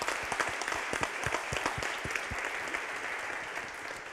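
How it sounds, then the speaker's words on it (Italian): Steady applause from an audience, a dense patter of many hands clapping that holds for a few seconds. "Un applauso."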